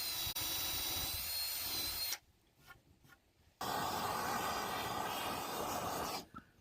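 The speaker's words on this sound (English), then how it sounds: "I decided to pre-drill the hole so the wood wouldn't split on us." A power drill pre-drills a hole in old barn wood, running in a steady whining grind for about two seconds, pausing briefly, then whirring again before stopping, close but fairly quiet.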